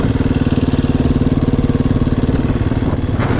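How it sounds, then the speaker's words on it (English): A 2016 KTM 350 XCF-W dirt bike engine idles and putters with a steady, rapid thumping pulse throughout, close and loud, with no voices. "That climb's not bad on a dirt bike."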